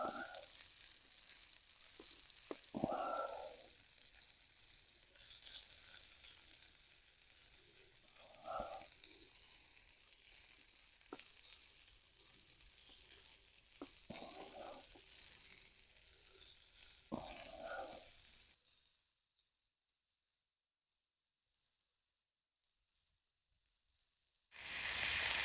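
Onions and peppers fry in a pan at an outdoor bushcraft cooking spot, producing a soft continuous sizzle with a few stirring clatters. The sound then drops to near silence before a loud burst at the end.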